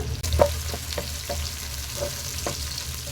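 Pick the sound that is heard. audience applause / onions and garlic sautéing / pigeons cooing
onions and garlic sautéing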